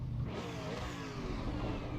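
An AMG race car engine in Assetto Corsa EVO revs up with a rising, close mechanical drone, running continuously and alone for a couple of seconds.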